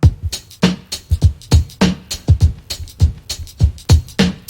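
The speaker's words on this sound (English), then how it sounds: "here's an example of a little drum break made with beat repeat." A punchy electronic drum break made with a beat repeat plugin: kick and snare hits in a quick, stuttering pattern, with short bursts repeated back-to-back at a steady tempo.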